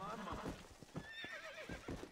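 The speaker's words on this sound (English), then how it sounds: "I hate horse breaking, by the way, it sucks." Horse neighing in the Red Dead Redemption: Undead Nightmare video game, a wavering whinny with hoof clip-clops mixed under steady game background and some talk.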